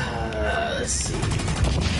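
Bolt action rifle gunfire in the Blacklight Retribution shooter game, sharp shots cracking over a low rumbling game soundscape with other gunfire.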